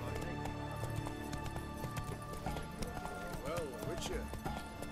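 Rhythmic clip-clop of galloping horse hooves in The Witcher 3: Wild Hunt runs under game music and effects, with a voice speaking briefly over it.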